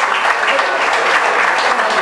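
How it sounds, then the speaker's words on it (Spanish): Loud, dense applause from a crowd at a magic show, an even unbroken roar of many clapping hands held at full strength from start to end. "Damos un aplauso bien fuerte a Leti."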